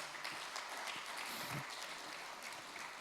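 Church congregation applauding after a French sermon, a faint, steady wash of clapping hands heard from a distance throughout.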